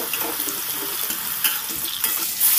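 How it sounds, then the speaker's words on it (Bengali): Fried potatoes are stirred in oil in a karahi, a steady sizzling hiss broken by a few sharper scraping strokes, close and moderately loud. "দেখুন, 2 মিনিট পর ঢাকাটা খুলে আলুটা প্রায় ভাজা হয়ে গেছে। এবার আর একটু নেড়ে চেড়ে আমি দেখুন তুলে নিচ্ছি।"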